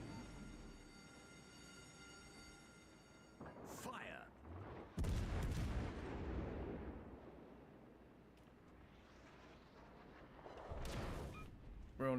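Enemy warship gunfire in World of Warships Legends, heavy booming salvos that break in around four and five seconds and again near eleven, each followed by a rumbling tail over steady game ambience.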